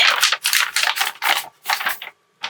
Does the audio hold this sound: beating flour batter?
no